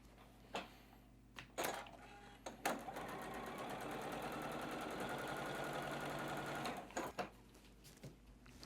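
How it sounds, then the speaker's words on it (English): A sewing machine stitches the last seam of a quilt block column: a few short starts, then a steady, close whirring run of several seconds, followed by a couple more brief bursts. "sew on that last seam for this particular column"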